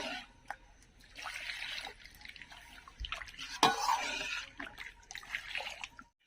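Water trickles and splashes in small pours into cooking dal, in uneven bursts with drips and a brief clatter, fairly quiet and close.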